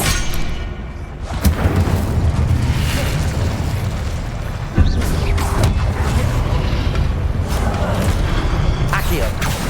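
Confringo fire-blast spells explode repeatedly during combat in Hogwarts Legacy, a run of booming bursts and crackling impacts over a dense, loud battle din, with a sharper hit about midway.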